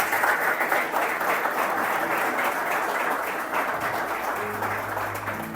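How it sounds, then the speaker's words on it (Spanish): Steady applause from a church congregation fills the space, sustained and fairly loud throughout with no talk over it. "Dale un aplauso a la palabra de Dios."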